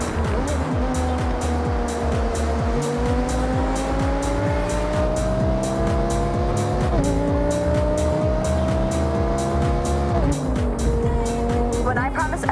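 An Audi R8 V10 supercar races in the Forza Horizon video game, its engine droning loud and steady with pitch rising through the gears and dropping at shifts, alongside tire noise, while someone talks over it throughout.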